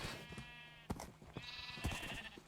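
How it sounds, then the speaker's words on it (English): Sheep in a pen in the video game Minecraft, several short bleats in quick succession, close and clear, with no one talking over them. "You can stay in my sheep pen"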